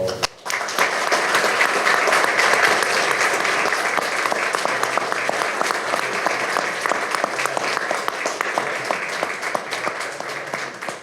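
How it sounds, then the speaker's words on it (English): At a city council meeting, a room of attendees applauds a retiring city employee with steady, full clapping that holds for about ten seconds with even intensity. "Join me in a round of applause."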